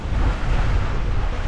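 Strong wind at sea aboard a sailboat crossing from Port Leucate to Calvi, around 12 to 13 knots, a loud continuous buffeting roar over the microphone mixed with rushing water, no voices.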